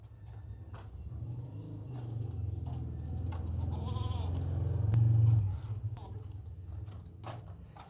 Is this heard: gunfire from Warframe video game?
no